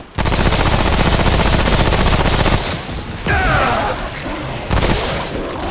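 Traps exploding in Remnant: From the Ashes, a loud, dense barrage of rapid booms and gunfire-like cracks, continuous at first, then thinning into scattered blasts and rumbling with game ambience, no talking.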